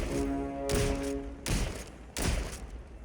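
Shotgun blasts in the video game Hawked, three heavy booming shots spaced about three-quarters of a second apart, loud and close, with a steady background hum underneath and no talking.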